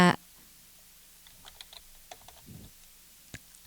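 Someone types HTML on a computer keyboard, light scattered key clicks at an uneven pace, close and soft in a quiet room, after a brief louder sound at the very start.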